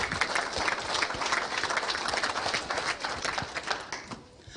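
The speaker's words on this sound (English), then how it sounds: "let's go ahead and give our exhibitors a big round of applause" Audience applause for cattle exhibitors at a winter farm show, a dense, steady wash of many hands clapping close by for over four seconds before tapering slightly at the end.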